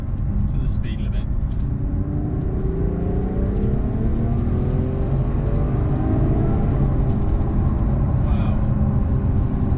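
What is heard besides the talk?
Ferrari FF V12 engine accelerating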